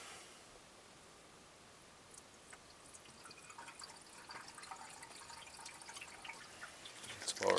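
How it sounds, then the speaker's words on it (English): Engine treatment poured into the oil of a 2000 Nissan Maxima SE with a 3.0 V6 VQ30DE, a faint, close trickling of liquid that grows slightly louder toward the end. "I'm gonna add my engine treatment."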